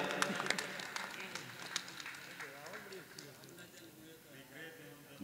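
Applause from the audience at an All India Mushaira in Asansol, West Bengal, a broad spread of clapping that is loudest at the start and thins out over a few seconds, with a voice speaking over it.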